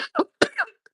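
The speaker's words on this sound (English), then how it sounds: "whatever it was I was about to say didn't need to be said because I started coughing" A man coughs several times in quick succession during a live stream, with harsh, close bursts followed by a faint tail, and no speech.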